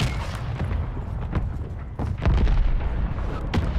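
Mortar explosions in Call of Duty boom out amid rumbling battlefield gunfire, with a heavier close blast landing about halfway through and dense low rumble continuing after it.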